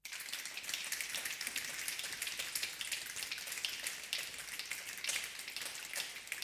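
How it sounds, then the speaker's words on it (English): Soft, dense patter of synthetic rain made from body percussion textures in the Chorus FX instrument, a continuous hiss of tiny hits with faint irregular accents, steady and fairly quiet throughout. "So let's start with this rain sound here."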